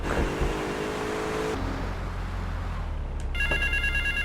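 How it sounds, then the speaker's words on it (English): A payphone in Grand Theft Auto III starts ringing near the end with a bright, bell-like trill, after low traffic rumble and a passing car's engine. "There's the phone again."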